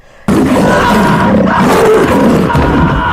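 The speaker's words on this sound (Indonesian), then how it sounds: "Harimau itu langsung menerkam anak buah Stavros yang berada di lantai bawah." A tiger in an action film roars loudly as it pounces on henchmen on a lower floor, a sustained growling roar bursting in after a brief quiet start and continuing with crowd-like commotion.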